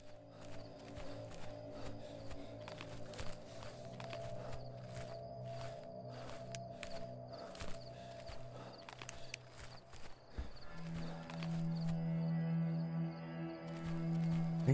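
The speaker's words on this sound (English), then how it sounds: "I just heard stomping again." Heavy, thudding footsteps of Siren Head in the video game Siren Head: Awakening plod along steadily at a moderate distance, mixed with a low droning ambience that swells louder near the end.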